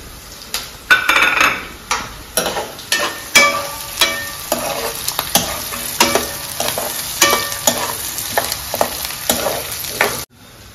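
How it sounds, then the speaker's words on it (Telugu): Sliced onions and green chillies fry in a hot pan for gongura chicken, with a steady sizzle under repeated rhythmic scrapes of a spoon stirring close by, then an abrupt stop. "కొంచెం ఉల్లిగడ్డలు వేగాయి కదా, ఇప్పుడు కొంచెం పచ్చిమిర్చి వేసుకుందాము."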